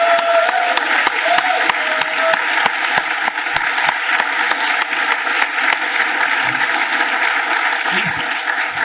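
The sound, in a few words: audience applause at conference closing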